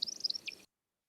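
An American woodcock on its display flight gives a brief burst of high, liquid chirps, quick and slightly irregular, then cuts off abruptly into silence.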